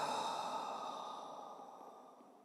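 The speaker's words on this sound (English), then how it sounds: "And exhale, surrender." A single long, soft exhalation during a yoga breathing practice, close and breathy, fading gradually over a couple of seconds with no talking.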